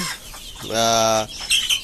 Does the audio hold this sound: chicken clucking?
yes